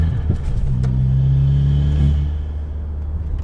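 A steady engine rumbles close by as a Volkswagen Caddy van with a swapped TFSI engine drives along, with a brief rising rev in the middle and constant low drone throughout.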